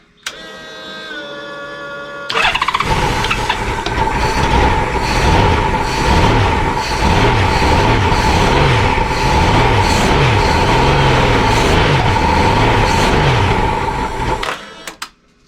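A 1988 Honda Goldwing GL1500 motorcycle, back on the road after sitting 21 years outside, cranks over and catches, then runs loudly and steadily at close range for about twelve seconds before cutting off.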